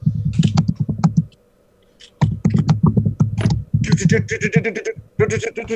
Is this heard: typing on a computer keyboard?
yes